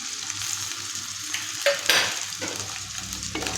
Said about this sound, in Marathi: व्यवस्थित हलवून घ्यायचं आहे बटाटा थोडासा तेलामध्ये परतला